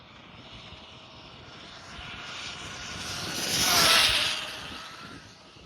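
A high-speed RC buggy on cheap tires makes a full-throttle speed pass, its motor whine rising to a loud peak as it rushes past near the middle and then fading again.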